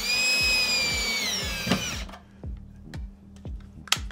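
A screw gun whirs up in short bursts, with repeated low thumping pulses and sharp clicks as screws are driven into a box close by.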